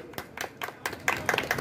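An audience at a mobile-shop lucky draw applauds the first prize, with scattered hand claps that build into a fuller round of clapping, moderately loud and close.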